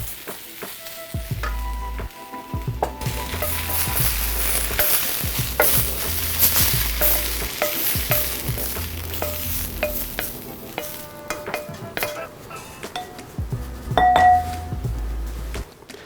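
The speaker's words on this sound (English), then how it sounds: "I've got my same pan here that I sauteed the kale in" Kale sautéing in a pan, with a continuous sizzle broken by stirring scrapes and occasional light clinks of utensils against the cookware, fairly close and without speech.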